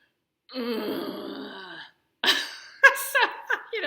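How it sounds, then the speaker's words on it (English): A long, drawn-out vocal groan held for over a second, followed after a pause by a series of short, throaty grunting sounds. "the sound that you need to make is groaning"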